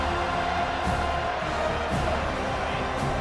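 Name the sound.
stadium crowd cheering in a football video game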